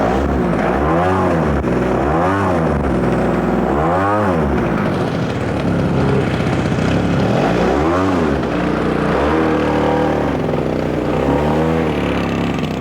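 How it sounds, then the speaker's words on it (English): A small gasoline engine adapted from a chainsaw, fitted in a model airplane, drones loudly and steadily, its pitch rising and falling in repeated revving swells close by. "has a gasoline-powered engine in it out of a chainsaw, basically"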